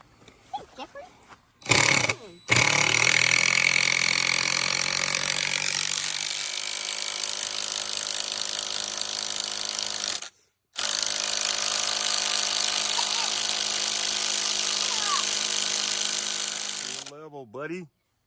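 A power drill drilling wood whirs loudly and steadily for long stretches, cutting out briefly midway before resuming, then winding down at the end.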